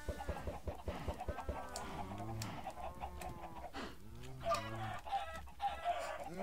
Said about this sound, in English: I really don't even know why I have this chicken farm.